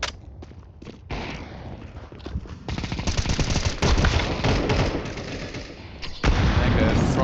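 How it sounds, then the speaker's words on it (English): AK rifle gunfire in the video game Counter-Strike 2 rattles in rapid, loud bursts with dense overlapping shots and some footsteps, and a commentator talks over the action. "Mega from short by De Broston gets taken down by Oshe with the AK"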